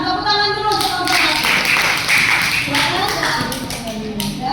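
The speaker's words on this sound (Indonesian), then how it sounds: "Silakan tepuk tangan dulu teman-teman." Students in a classroom clap together in a steady burst of applause lasting several seconds, with voices mixed in underneath.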